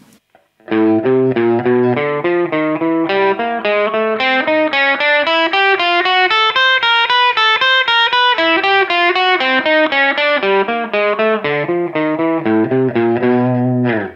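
Electric guitar plays a chromatic finger warm-up with the four notes in mixed order, a steady run of evenly picked single notes with a mildly driven tone, close and loud with no talking.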